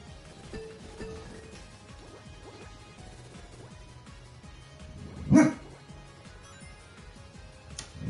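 A dog barks and growls indoors with people in another room, a low rumble under quiet game sounds and one sharp, loud bark burst near the middle.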